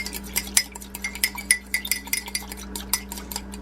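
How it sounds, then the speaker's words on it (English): A utensil stirs a mixture of nutritional yeast and soy sauce in a bowl, making quick, irregular light clinks and taps, close and fairly quiet. "And I'm just going to mix it up."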